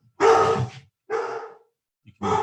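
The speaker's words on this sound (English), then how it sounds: "you can hear in the background, I think my dogs are attacking the FedEx person" Three loud, close barks from dogs at a delivery person, each one separated by a brief silence, with no talking over them.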